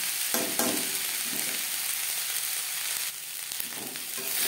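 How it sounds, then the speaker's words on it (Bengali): Leftover rice and vegetables being stir-fried in a pan over a low-to-medium gas flame, a continuous bright sizzle with soft scraping stirs and brief spatula knocks, close and steady with no voices. "সবজির সাথে লো টু মিডিয়াম ফ্লেমে 3-4 মিনিট ভাত নাড়াচাড়া করে নেওয়ার পর"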